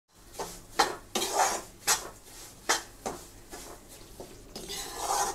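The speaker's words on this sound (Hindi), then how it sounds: "हमें अपने इस मिक्सचर को इसी तरह लगातार चलाते रहना है" Moong dal halwa mixture being stirred in a pan: a spoon scrapes and knocks against the metal in a steady series of close scraping strokes with faint sizzling between them, and no voices.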